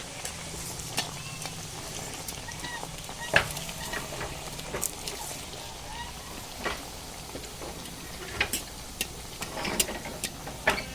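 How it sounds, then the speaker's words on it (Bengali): Raw potato snacks fry in hot oil with a continuous close sizzle and bubbling. Occasional sharp pops and light utensil clicks break through the steady hiss. "তেলটা ভালো করে গরম করে নিয়েছি একটা একটা করে নাস্তাগুলো দিয়ে দেবো"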